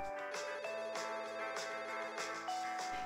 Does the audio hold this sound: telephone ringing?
yes